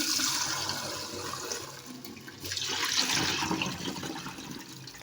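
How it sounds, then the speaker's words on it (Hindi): Water drained from curdled milk through a strainer while making homemade paneer pours and gushes continuously, a hissing splashing flow that swells and eases over several seconds, close by and without talk. "देखिए पानी अभी निकल रहा है"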